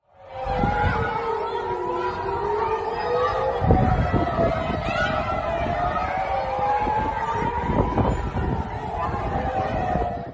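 A loud wailing rocket warning siren in Israel rises and falls in long sweeps, with crowd noise, footsteps and voices bustling beneath it as people scramble for shelter.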